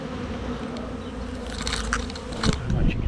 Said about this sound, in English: There's a bit of a swarm of bees here.